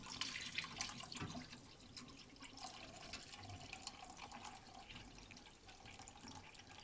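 Liquid whey is poured off homemade Camembert cheese curds, a continuous splashing trickle with drips, close and fairly quiet.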